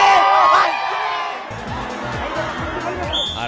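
Fans crowding in Vita, Sangli to catch sight of actress Rinku: loud cheering and shouting from many people, then a steadier murmur of the throng with scattered whoops.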